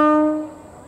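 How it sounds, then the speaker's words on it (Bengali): A train horn sounds at a village railway station on the Bankura–Masagram route in India, one loud sustained blast that fades out within a second. "চলুন বন্ধুরা, ট্রেন আসার এই সুন্দর দৃশ্যটাকে উপভোগ করি আমরা"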